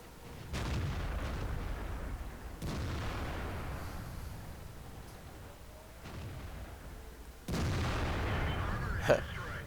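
Tank cannon fire in a video game: three heavy, booming shots, each with a long rumbling tail, followed by a sharp crack near the end.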